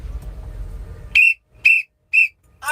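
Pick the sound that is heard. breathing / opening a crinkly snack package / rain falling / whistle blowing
whistle blowing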